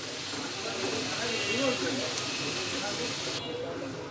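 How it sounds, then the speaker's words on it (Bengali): Potato roll samosa snacks deep frying in hot oil until browned: a continuous broad sizzling hiss, fairly close and even, with a faint voice in the background. "নাস্তাগুলো আমি ব্রাউন কালার করে ভেজে নিতেছি।"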